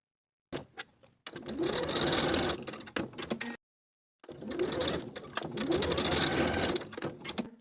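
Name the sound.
sewing machine stitching a hem on a dress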